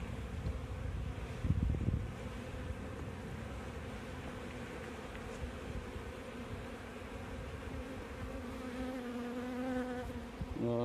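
Honey bees buzzing in an open hive during an inspection after a package of bees was installed, a dense, continuous drone close to the microphone with individual bees rising and fading over it.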